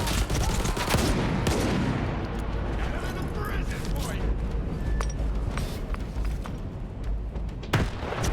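Enemy gunfire in S.T.A.L.K.E.R. 2, dense and continuous with scattered sharp cracks inside a loud, busy combat soundscape, with a voice speaking over it.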